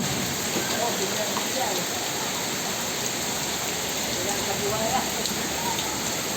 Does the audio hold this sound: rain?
yes